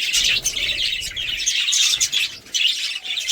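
A small bird chirps repeatedly from its nest holding six eggs, with bright, close bursts of calls broken by short pauses and faint rustling.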